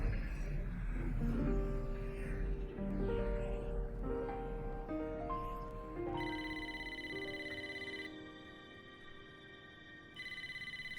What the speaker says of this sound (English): Is this a real phone call?